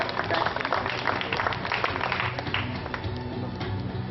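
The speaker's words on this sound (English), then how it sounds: "You give him a round of applause." An audience at an entrepreneurs' event gives a steady round of applause, dense and continuous clapping from a full room, with some voices mixed in.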